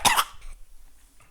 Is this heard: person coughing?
yes